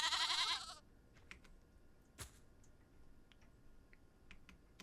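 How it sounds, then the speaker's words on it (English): A goat in the video game Aloft lets out one loud, wavering bleat at the very start, then the scene drops to a quiet ambience with scattered faint ticks and a single sharp click. "Aww, it's a little goat."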